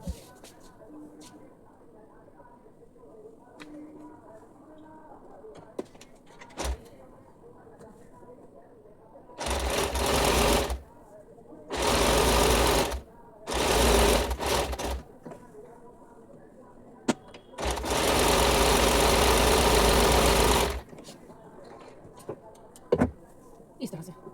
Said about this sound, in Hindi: चलिए अब हम सिलाई करते हैं।